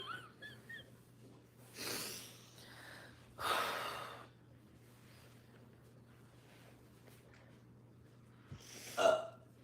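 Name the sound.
burp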